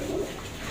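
Pigeons give a brief, low, throaty coo, heard close and alone for under a second.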